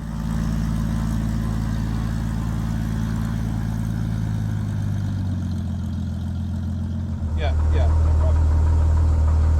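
The composite carbon-fiber and fiberglass aerobatic aircraft's engine idles steadily while taxiing, a loud low droning hum with vibrating resonances that shifts pitch partway through, with a brief spoken exchange over it.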